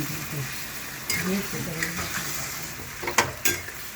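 Chana dal cooking in a pan just after turmeric goes in, a soft steady sizzle with a few scraping stirs and light utensil clinks near the end, close and moderately loud.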